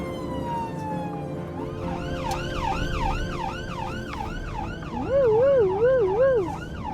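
Wailing ambulance siren with blues and twos on, loud and close, sweeping up and down in repeated wavering cycles that overlap a second siren, with road traffic rumbling beneath and no voices.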